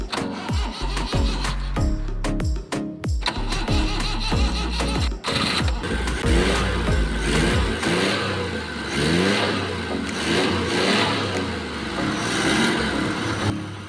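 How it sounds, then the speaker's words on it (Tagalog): A car engine cranks and catches after a high-tension wire repair, then revs steadily and loudly for the rest of the stretch with no talking. "Automatic day na ato dayon testing ag paandar ang makina."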